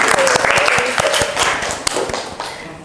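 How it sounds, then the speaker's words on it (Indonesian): A classroom of students applauds a classmate, a dense burst of many hands clapping that fades out gradually, with voices mixed in. "Oke, tepuk tangan untuk Fajar."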